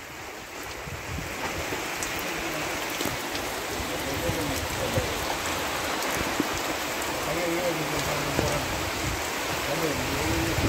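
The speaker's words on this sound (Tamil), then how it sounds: "பயங்கரமா மழை பெஞ்சிட்டு இருக்கு" Heavy rain pours steadily outdoors near a kitchen where lake fish curry is being cooked, a dense, continuous hiss that is loud and close throughout, with talking mixed in underneath.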